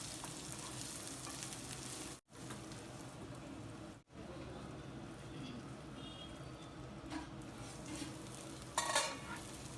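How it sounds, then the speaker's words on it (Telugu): Soaked cashews frying in oil in a covered pan, a low steady sizzle with two brief dropouts and a short clink near the end. "ఒక్క నిమిషం ఆయిల్లో మగ్గనిద్దాము మూత పెట్టి"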